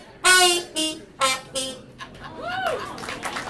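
Trombone fitted with a trumpet mute and worked with a plunger gives several close, punchy muted notes, followed by a wah-like bending growl that trails off into softer sputters.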